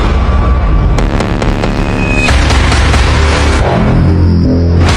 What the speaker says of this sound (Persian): انفجار وحشتناک زیر هوا.